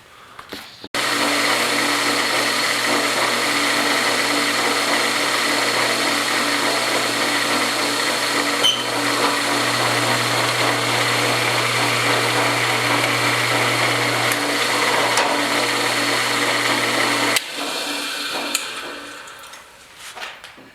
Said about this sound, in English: And then we'll just drill these holes.